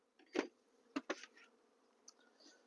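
Bees buzzing around a 10-frame polystyrene foam beehive, heard as a few short close bursts of insect drone with quieter hum in the gaps.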